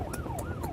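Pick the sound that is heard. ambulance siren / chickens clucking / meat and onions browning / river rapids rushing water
ambulance siren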